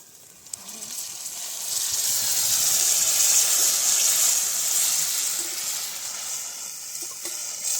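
Water poured into a spiced curry base with red chilli and turmeric in a pan over a wood-fired stove, a rising rushing hiss that peaks and slowly fades, with no talking.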